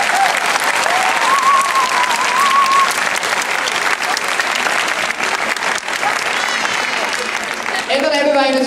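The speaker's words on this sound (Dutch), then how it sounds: "Een ontzettend hard applaus." Loud, sustained applause from a circus show audience fills the whole stretch, dense and even, with a brief whistle early on and bird-like squeaks near the end.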